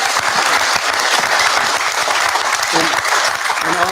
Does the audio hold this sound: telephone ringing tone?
no